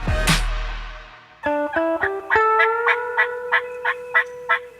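An Eastern wild turkey gobbles loudly and close, one booming rattling call followed by a run of sharp, evenly spaced notes, heard alone in open hunting country.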